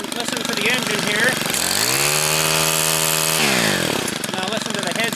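A STIHL string trimmer engine idles roughly, then revs up to a loud, sustained high-pitched whine for a couple of seconds before dropping back to a rattling idle.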